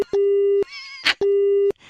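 After a phone call is cut, a busy tone sounds as two long, steady, loud beeps separated by a short gap, with a brief burst of noise between them.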